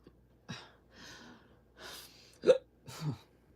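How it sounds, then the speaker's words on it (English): Several short, sharp hiccups from a person, spaced irregularly with soft breathy sounds between them, close and fairly quiet, with no talking. "I've had hiccups all day long."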